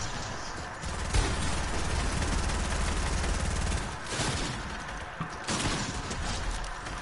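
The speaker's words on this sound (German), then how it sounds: "Schuss." Fortnite gunfire rattles in rapid volleys of sharp shots, moderately loud and fairly close, with a brief pause before a final burst.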